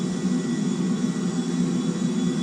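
An airliner flying over a city in the video game GTA 5, a steady loud engine drone with a low hum and no variation.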